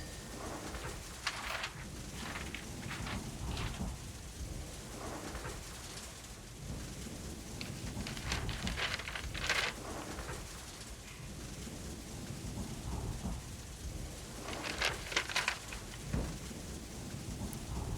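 Rain falls steadily on a stormy night, punctuated by several loud, close thunder cracks and rumbles, with faint bird cooing in the background and no speech.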